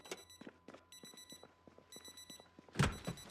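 A digital watch alarm in Project Zomboid gives short repeated electronic beeps in bursts, fairly quiet amid footsteps and small thuds, followed by a louder clunk near the end.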